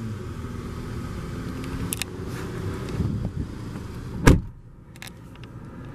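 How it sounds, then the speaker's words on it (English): A 2016 Audi A3 1.8T Premium FWD engine idles steadily with a low rumble, broken by a few clicks and a sharp clunk, heard up close from inside the car. "Go ahead and start it, foot on the brake, insert the key. And typical Audi, just flick to start."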